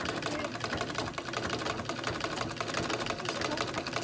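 An antique 1880 mechanical sewing machine stitches steadily, its dense rapid clatter running continuously and close up at a fairly loud, even level throughout.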